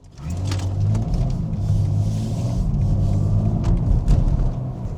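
A BMW M4 drives along, its engine rumbling low and steady from inside the car with slight rises in revs and road noise throughout.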